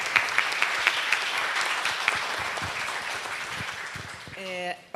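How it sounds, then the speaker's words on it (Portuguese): Sustained applause at a Folkcom 2025 award ceremony for the José Marques de Melo diploma, a dense steady patter of many hands that fades toward the end as a voice begins. "salva de palmas para você e para a memória de sua família."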